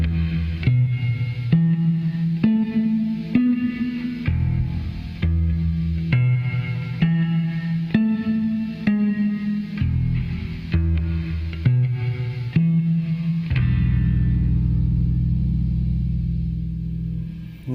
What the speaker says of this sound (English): to demonstrate that, here's my reverb unit